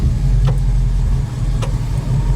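The heater fan of a 1965 Ford Mustang Fastback blows with a steady, loud low hum and rumble inside the car, broken only by a couple of faint clicks.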